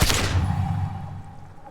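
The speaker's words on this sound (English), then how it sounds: "A plume of smoke and fire erupts from the gun, and your hand goes numb from the explosion." A single loud gunshot fires in Disco Elysium, a sharp blast at the start that leaves a low ringing tail as it fades away.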